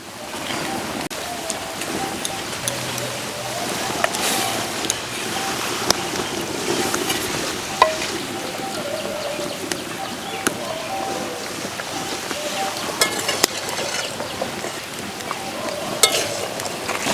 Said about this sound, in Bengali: ঝোল ফুটে উঠেছে, এবার মাছ দিয়ে দেব।